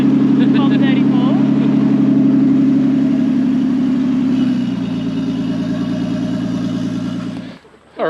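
An imported Japanese car engine fresh off the boat, running on Australian fuel, idles with a steady mid-pitched drone that loudens at first, then settles to a lower rumble before cutting out near the end, with voices talking over it.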